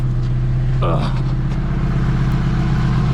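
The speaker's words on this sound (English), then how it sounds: "she's idling so nicely with this smaller throttle body" A Porsche engine running on E85 with a Mustang GT throttle body idles loud and close with a steady low rumble, a brief voice cutting in near the start before the idle continues alone.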